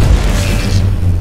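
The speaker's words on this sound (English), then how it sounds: "Throw a grenade at." A grenade blast in the shooter game Titanfall 2 hits as a heavy, loud low boom up front, then its rumble rolls on steadily through the rest of the moment.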